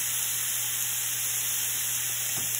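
Steak searing in a hot pan, a steady soft sizzle and hiss that stays even throughout with no talking.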